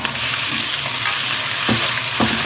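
Food fries in plenty of hot vegetable oil in a wok, producing a dense, loud, close sizzle and crackle that runs throughout, with a few soft knocks from a utensil and no speech.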